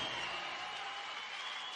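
Outdoor crowd at a speed skating world championship in Ibagué, Colombia, giving a continuous, even wash of cheering and applause throughout the short stretch.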